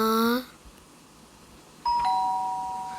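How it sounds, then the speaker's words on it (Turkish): A doorbell chimes twice with a pause between, each ring a clear electronic tone that fades out. "Zil çaldı"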